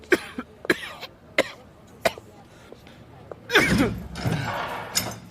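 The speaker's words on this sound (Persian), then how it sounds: "همچین سرفه میکنی که انگار جیگرت میخواد بزنه بیرون." A person coughs heavily in a series of sharp, close bursts, a few seconds apart, before a longer rasping fit of coughing and throat clearing near the end.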